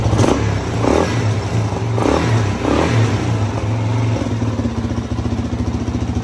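Engine of a cheap Suzuki DRZ400 project motorcycle, running loud and close with a steady low idle throb and several rhythmic revs early on, with clattery mechanical noise throughout and no talk.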